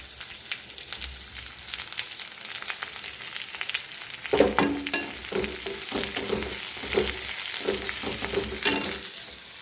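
Snake gourd, green chili and chopped onion sautéing in a pan, first a steady close sizzle, then rhythmic stirring scrapes joining in from midway.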